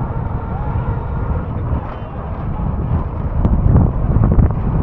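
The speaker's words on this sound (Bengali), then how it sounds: "জোশ একখান হাওয়া দিচ্ছে" Strong wind gusts buffet the microphone on the road out past a casuarina grove by Cox's Bazar beach, producing a loud, constant low rumble that swells toward the end, with faint traffic beneath.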